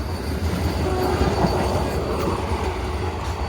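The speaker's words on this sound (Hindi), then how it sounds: "देखिए यह है अपनी आनंद विहार देहरादून वंदे भारत एक्सप्रेस" A Vande Bharat Express, the Anand Vihar–Dehradun service, rushes past as a loud, steady rumble of rolling wheels and rail noise that fills the whole stretch, with no voices.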